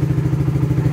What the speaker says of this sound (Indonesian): motor sudah nyala ya, ya bisa dibilang motor sudah running